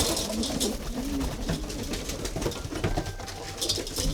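Rescued pigeon cooing softly in low repeated phrases amid steady background noise, with no voices over it.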